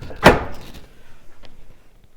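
An old pine wardrobe door on external hinges swings open with one sharp wooden knock near the start, then faint creaks and small thuds in a quiet room.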